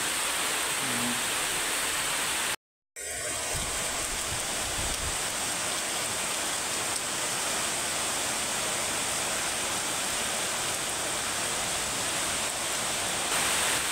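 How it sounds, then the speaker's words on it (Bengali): Torrential downpour of rain seen from inside a room during a rainy afternoon, a dense, steady roar of heavy rainfall close by that fills the whole clip, with a momentary dropout near the start. "আসলে মুষলধারে বৃষ্টি হচ্ছে"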